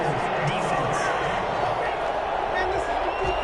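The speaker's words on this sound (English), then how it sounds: "This crowd does not like that call" A stadium crowd at a Chargers versus Vikings football game roars in a dense, sustained wash of disapproval over a roughing penalty flag, steady and loud throughout.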